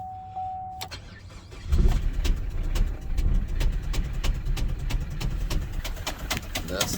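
A 2016 Chevy Cruze Limited LT with the 1.4L turbo engine, which has a crank-no-start fault, is cranked: after a short tone the starter and engine churn loudly and steadily for several seconds under faint talk.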